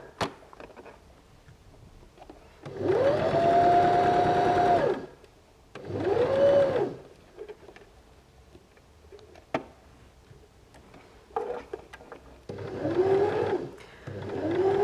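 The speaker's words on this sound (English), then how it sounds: "don't forget to turn your machine back to a straight stitch. So we'll just stitch this." A sewing machine runs a straight stitch along a seam of small doll's shorts, whirring in several close bursts of a few seconds each, separated by quiet pauses with light handling clicks.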